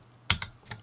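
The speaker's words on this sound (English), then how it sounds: "using a keyboard shortcut to call TechSmith" Keys pressed for a shortcut on a Chromebook keyboard: three crisp, close plastic clicks, the first strongest, spread over under a second in a quiet room.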